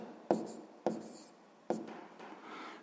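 Pen on paper writes down a math answer, three distinct scratchy strokes with sharp onsets spaced about a second apart, close and fairly quiet, trailing into softer rubbing.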